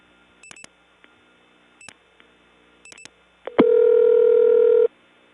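Step-by-step telephone exchange on a 1979 network, faint clicks and short tone chirps followed by a loud steady tone lasting just over a second before cutting off.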